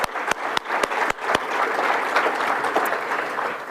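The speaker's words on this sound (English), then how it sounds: "Another round of applause to everyone." Applause from an audience at a conference event closing, opening with a few loud, sharp individual claps before settling into a full, sustained round of clapping from the crowd.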